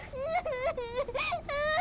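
A female anime character from Fairy Tail cries in repeated sobbing wails, five close bursts with short gaps between them, moderately loud and close.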